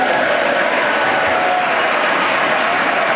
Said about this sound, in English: it's a good thing there was more applause after that